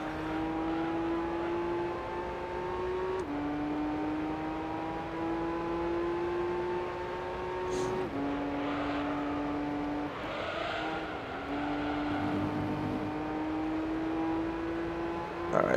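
Nissan 400R race car engine in Gran Turismo 3, a steady high-revving drone that climbs through the gears with abrupt drops at each shift, loud and continuous with no talk.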